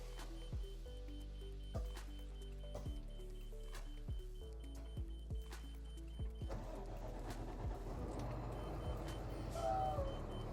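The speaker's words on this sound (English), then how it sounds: "you'll hear those jacks beeping, and that again is just because we ran the jacks first." Leveling jacks on a Dynamax Freightliner motorhome beep in a steady repeating pattern of short tones, mixed with a low engine idle hum, and a louder mechanical whir joins partway through.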